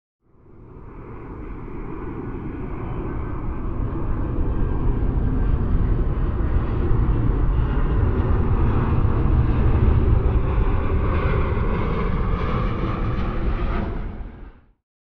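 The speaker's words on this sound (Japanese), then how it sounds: "旅客機の音。" A passenger airliner roars past, its broad jet rumble swelling steadily, holding loud for several seconds, then fading quickly at the end, with no voices.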